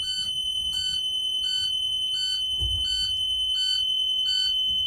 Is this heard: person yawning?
no